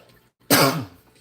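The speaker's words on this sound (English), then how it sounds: "this cough is not going away" A single harsh throat-clearing cough bursts out after a short silence, loud and close, then trails off into quiet.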